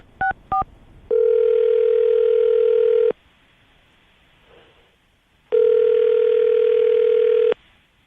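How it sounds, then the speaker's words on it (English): Two short touch-tone dial beeps as a call is placed, then a steady ringback tone in two long bursts separated by a quiet gap, clear and close with no talking. "I'm going to give her a call right now, see if we can get her on the phone"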